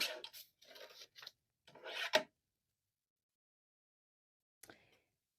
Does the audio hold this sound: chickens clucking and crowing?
no